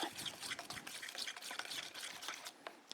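Creamy potato salad ingredients with a pinch of salt being stirred together in a bowl, giving quiet, soft wet squelching and scraping sounds that repeat steadily and close by.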